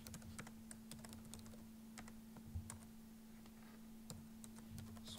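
Quiet, close computer-keyboard typing: scattered sharp key clicks in irregular bursts over a faint steady hum, with no talking.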